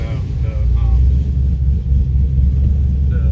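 A Camaro with a 416 stroker engine on its first short drive, its deep steady low rumble droning close and loud inside the car as people talk over it.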